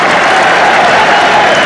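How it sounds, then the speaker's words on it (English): A football crowd at a 1989-90 Littlewoods Cup match between Plymouth Argyle and Arsenal cheers and applauds a substitute coming on, a dense, loud, steady roar of clapping and cheering with no break. "And here we get a big cheer."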